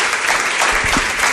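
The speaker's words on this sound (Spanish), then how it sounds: "Pido un aplauso para él." Dense, loud applause from a crowd, steady clapping filling the whole moment.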